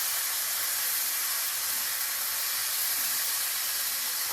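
Tomatoes land in a hot skillet and sizzle with a loud, steady hiss of steam and spattering that holds evenly throughout, close up with no talking.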